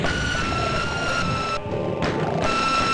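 A pain sound effect from a Doom sound mod plays amid dense game audio, a harsh distorted tonal burst layered over steady noisy clutter, loud and close with a brief dip in the middle before resuming.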